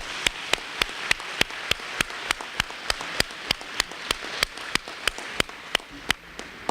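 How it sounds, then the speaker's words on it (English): Guests at a senior recognition dinner during the Harambee Festival give a round of applause. A soft, steady wash of clapping runs throughout, with one sharp, evenly spaced clapper standing out close by. "How about another round of applause, please?"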